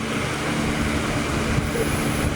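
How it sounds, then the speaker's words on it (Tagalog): Helicopter engine and rotor roar steadily at close range, a dense, unbroken mechanical drone with low thumping underneath and a thin high whine, with no talk over it. "Ngayon lang ako makakasakay dito sa helicopter."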